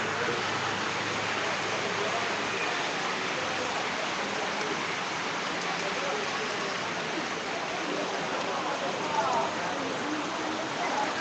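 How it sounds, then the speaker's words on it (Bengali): Heavy rain pours steadily in a village neighbourhood, a dense, continuous hiss of water hitting surfaces that stays loud and even from start to finish with no voices. "আবার প্রচুর বৃষ্টি আসছে অজরে বৃষ্টি পড়ছে দেখুন"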